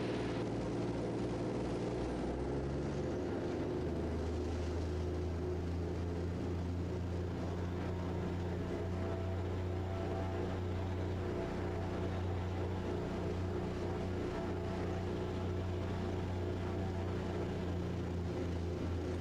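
Raptor prototype aircraft engine running steadily on a runway during a high-speed taxi, a loud sustained drone with low tonal hum that holds evenly throughout.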